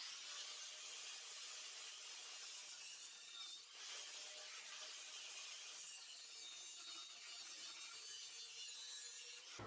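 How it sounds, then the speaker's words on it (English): Continuous, fairly faint rasping and grinding as the tall center pin on a front axle is cut off during a DIY front lift, a steady abrasive noise with a brief dip midway and no voices. "we need to cut off this center pin"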